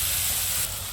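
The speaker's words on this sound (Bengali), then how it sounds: "মশলাটা দিয়ে মা একটু ভালো করে ভাজা ভাজা করে নেবে" Spice paste fries in hot oil for a fish curry, a brief steady sizzling hiss heard close up without any talking.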